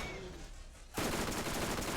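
Automatic SMG fire in the video game Borderlands erupts abruptly midway, a dense, sustained burst of rapid shots that stays loud to the end after a quieter ambient stretch.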